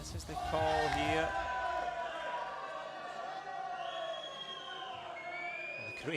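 At a tennis match, Croatian fans in the crowd jeer a line call, a swelling chorus of loud, sustained whistles and shouted boos that carries from the stands and lingers for several seconds.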